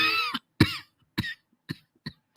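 A woman in a comedy film coughs in a string of about five harsh, dry bursts, the first drawn out with a vocal rasp and the later ones shorter and fainter, each separated by brief silences.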